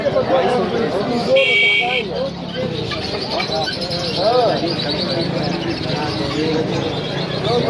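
At a Sunday bird market in Saddar, Karachi, caged birds including mynas, bulbuls and doves chirp and coo continuously, with a buzzer-like tone briefly, under nearby talk.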